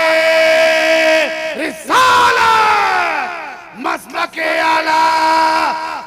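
A large crowd at an Eid Milad un Nabi religious gathering shouts Allahu Akbar in loud unison in answer to a takbir call, several forceful chanted bursts with short gaps between them.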